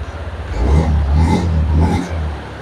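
Honda Scoopy scooter engine starting and revving up in a short rising burst of throttle, close and fairly loud with a brief dip before it revs again.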